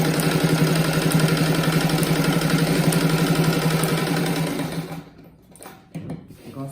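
A sewing machine runs steadily for about five seconds, joining patchwork rug pieces with a double seam, then stops, leaving a few faint handling knocks.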